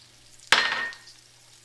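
A tablespoon of oil poured into a hot pan for borscht, a sudden sharp sizzle burst that fades over about half a second into a soft hiss, close and alone.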